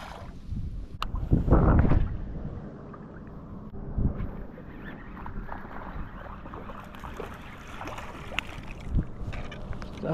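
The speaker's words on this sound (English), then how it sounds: "That wind is making it really hard to cast though." Gusty wind buffets the microphone from a small fishing boat on open water, with low rumbling bursts and light splashes.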